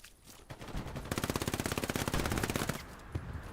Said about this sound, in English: Houdini laying some shots downrange with the SVT-40